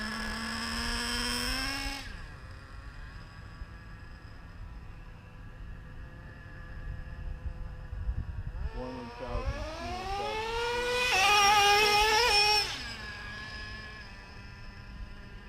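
A Traxxas Slayer Pro nitro 4x4 RC truck with a two-speed transmission revs its engine with a high, buzzing whine that climbs in pitch, then drops sharply as it shifts into second gear. The engine sounds mid-distance, with no talk.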